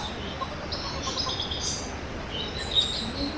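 Birds chirp and call inside a hotel aviary, light high tweets scattered over a soft steady background hum, fairly faint with no talking.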